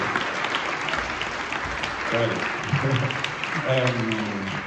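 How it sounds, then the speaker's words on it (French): Audience applause fills a launch evening event, a steady dense clatter of clapping throughout, with voices talking over it in the second half. "je pense que ce serait très bien de l'applaudir parce qu'il fait un énorme effort pour revenir"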